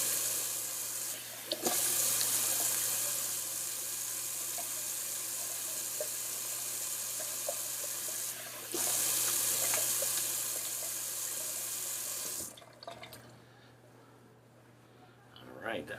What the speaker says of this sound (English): More of like a room temperature rinse.